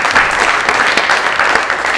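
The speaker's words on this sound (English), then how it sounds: "Can y'all give a round of applause for the team so far?" Brief burst of audience applause for a team, dense continuous clapping from a nearby crowd filling the whole moment.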